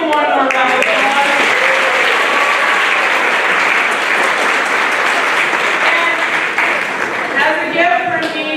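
Loud, sustained applause from a spring band concert audience honoring high school soloists, dense clapping filling the room with cheers and whoops rising over it at the start and end.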